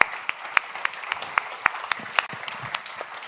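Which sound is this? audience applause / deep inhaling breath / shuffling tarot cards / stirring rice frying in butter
audience applause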